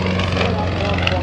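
A prototype Yak-50 aerobatic propeller plane climbs vertically at the Canadian International Air Show, its engine giving a steady, loud droning hum, with an announcer talking over it.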